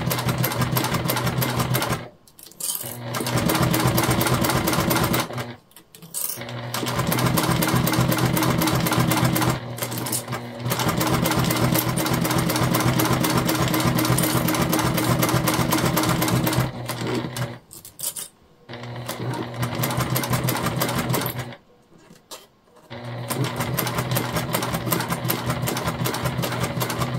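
A sewing machine stitching a jelly vinyl hip bag runs in long steady rattling bursts, stopping briefly several times before starting again.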